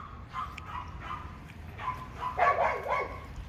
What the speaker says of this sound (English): Oh, dogs are driving me crazy.